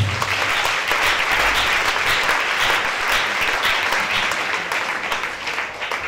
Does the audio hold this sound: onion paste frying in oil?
no